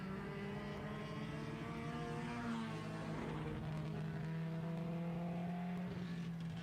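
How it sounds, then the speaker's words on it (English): Race cars at a speedway heat race throttle up from the start line together, their engines droning and rising in pitch in a steady, layered roar heard from a distance. "This time it's Willison's car that stumbles a bit on the start."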